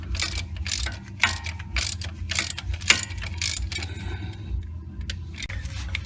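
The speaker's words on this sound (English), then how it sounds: "now we're removing the transmission mount in the back" A hand ratchet clicks in quick, repeated bursts close by as it turns the 14mm bolts of the rear transmission mount on an Acura MDX, then goes quieter toward the end.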